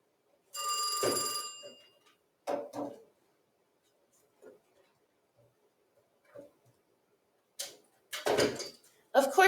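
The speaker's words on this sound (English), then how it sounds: "Of course my phone would be ringing during my live lesson." A phone rings with a brief electronic ring burst, then later bursts over a quiet room, interleaved with a person talking and small handling knocks.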